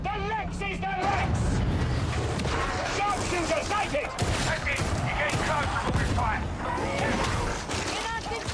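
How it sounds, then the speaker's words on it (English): A revolver shotgun fires repeatedly in the game Darktide, its blasts mixed with a dense barrage of other gunfire, clanking mechanisms and combat noise, loud and continuous, with voices heard amid the chaos. "Is that a revolver shotgun?"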